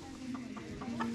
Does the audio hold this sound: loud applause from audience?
no